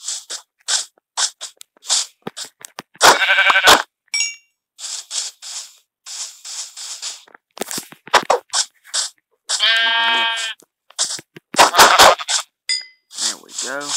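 Sheep bleat in the Minecraft video game, with two loud, wavering bleats among a steady run of crunching footsteps and block sounds.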